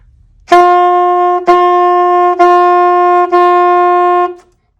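A saxophone sounds four sustained notes on the same pitch, each cleanly separated by a light tongued break, loud and close.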